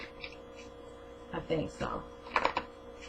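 Tarot cards are shuffled by hand in a few short, soft riffling bursts close to the microphone over a faint room hum.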